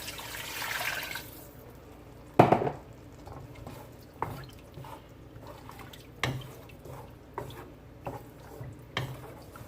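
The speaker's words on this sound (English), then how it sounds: "I'm gonna add 2 cups of water" Two cups of water splash and trickle into a pot of seasoned rice with sardines, with scattered drips and small clunks following an initial gush.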